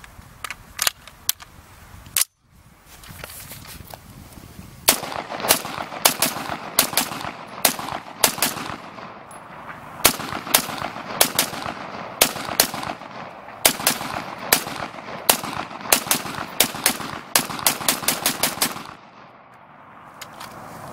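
Faxon ARAK-21 rifle firing in rapid strings of sharp, loud shots, a few at first, then a pause, then a long steady volley of dozens of reports before stopping.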